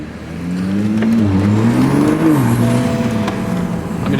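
A 2020 Toyota Supra undergoing a rebuild after a wreck, its engine revving hard at full throttle, pitch climbing and dipping in a steady, loud, close drone with no talking.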